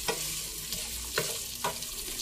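Chicken curry sizzles steadily in a pan while a utensil stirs and scrapes it in a few distinct strokes, close and moderately loud, with no talking.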